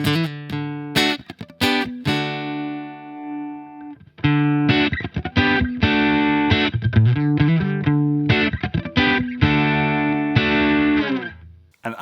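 A Fender Acoustasonic Player Telecaster played through a Fender Deluxe Reverb tube amp rings out close and loud in strummed chords and choppy rhythmic bursts, with a brief pause before a denser, sustained passage.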